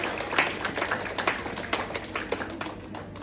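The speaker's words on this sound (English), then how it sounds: "Give them a warm round of applause" Light, scattered applause at an awards banquet greets an elementary award recipient, a modest patter of hands that stays fairly quiet throughout.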